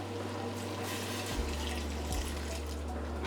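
About a cup of water is poured into a paynuse mixture made with non-colostrum milk, giving a steady splashing pour with bubbling that runs under a low hum for several seconds.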